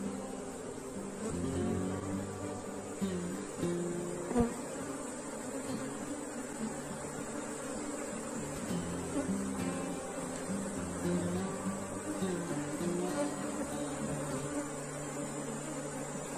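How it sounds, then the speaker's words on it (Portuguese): A small leftover bee swarm hums steadily while a beehive is opened and its frames are inspected. The droning buzz is close and continuous, with faint wavering tones and no speech. "O enxamezinho que ficou para trás."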